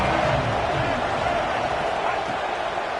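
A dense football stadium crowd roars steadily through a third-down play with Texas Tech on offense against Utah, the loud broadband cheering sustained without a break.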